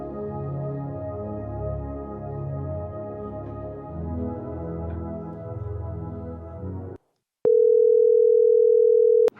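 A steady, unbroken telephone dial tone sounds loud and close for about two seconds, following a short silence after a stretch of dense background sound.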